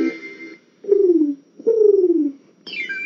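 Two drawn-out, descending bird calls sound close and clear, separated by short pauses, with a higher call starting at the end.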